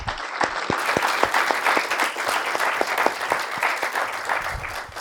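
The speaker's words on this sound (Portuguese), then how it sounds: "eu queria pedir uma salva de palmas para os dois" An audience at a literary talk with two guests breaks into applause, loud sustained clapping with sharp individual claps standing out in the opening seconds, holding steady before easing slightly at the end.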